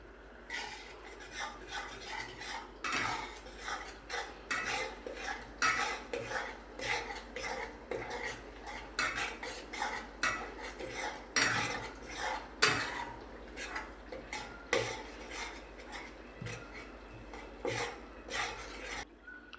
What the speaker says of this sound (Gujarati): હલાવી દઈશું.